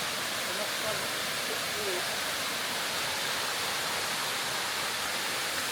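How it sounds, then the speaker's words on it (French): Steady broadband rush of a waterfall on Nosy Be, Madagascar, reached by a small descending trail; constant, fairly close and even throughout, with no break in the roar. "Bien arrivé à la cascade."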